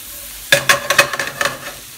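Chanterelle mushrooms and garlic sizzle in a hot pan as they are stirred and tossed, a close series of sharp, rhythmic scraping bursts over a steady frying hiss, with no talking.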